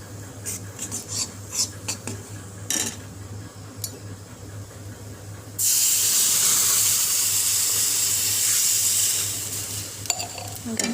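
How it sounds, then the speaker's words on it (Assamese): Milk being stirred into a white sauce in a pan, a loud continuous sizzling hiss rising sharply partway through after quieter utensil scrapes and clinks, then easing near the end. "এয়া মই গাখীৰখিনি লৰাই আছোঁ ভালকৈ।"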